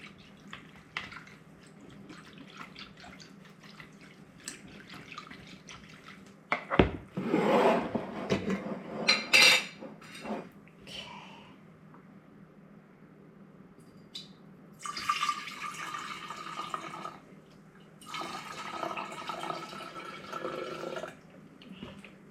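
Homemade fire cider mixed with honey is poured and scraped from one jar into another, with soft rasping, wet trickles and glassy clinks in bursts separated by quiet pauses.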